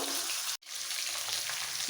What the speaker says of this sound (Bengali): পিসগুলো একটু কড়া করে ভাজবো